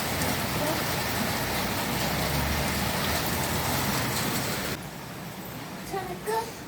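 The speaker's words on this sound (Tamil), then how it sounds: "சூப்பராக மழை வருது." Rain falls steadily outdoors in a dense, even hiss, then lightens noticeably toward the end, with a few brief louder spatters and a voice heard faintly under it.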